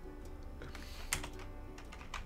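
Keys clatter steadily on a computer keyboard while someone plays a SpongeBob typing game. The taps are quiet and close, in quick, uneven bursts over a low background hum.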